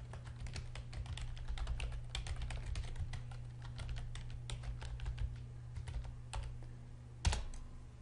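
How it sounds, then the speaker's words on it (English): Typing a username and password on a computer keyboard: steady, close key clicks throughout with one louder keystroke near the end, no talking. "I'm going to enter in my username and password"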